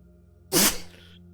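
A single sharp, loud sneeze bursts out close by during a tabletop role-playing game session, cutting through a quiet room.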